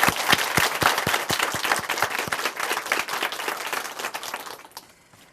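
An audience in a church testimony program applauds together, a dense, loud burst of clapping that carries steadily for several seconds before fading out at the end.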